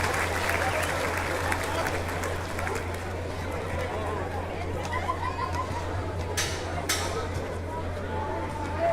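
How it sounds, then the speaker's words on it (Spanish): Crowd applause at the inauguration of a sports venue in Tamazulapan del Espíritu Santo, moderate and continuous clapping mixed with chatter and voices, a steady low hum beneath, a couple of sharper bursts near the end. "Fuerte los aplausos para esta comitiva."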